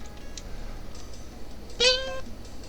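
A single cat meow used as a sound effect, a clear, rising, harmonic mew lasting under half a second, fairly close against a quiet background hum, with no talking.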